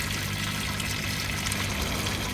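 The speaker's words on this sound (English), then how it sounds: "it's just doing its drain cycle there, and I've just got the pipe just going out the side of the shed there" An 18 kg Cater-wash industrial washing machine on its drain cycle pushes water out through a pipe running out the side of a shed, a constant, close rushing and gurgling of flowing water with a low pump hum beneath.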